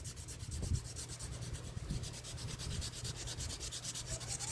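Steady back-and-forth strokes of a sanding block across a firearm surface make a close, even abrasive rasp that keeps a brisk regular rhythm throughout, with no talking.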